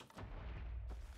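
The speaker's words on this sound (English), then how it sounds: "Ignore the explosions." Booming explosions in the Minecraft modpack RLCraft, a dense continuous rumble with a sharp burst near the start and another just before the end, loud and close.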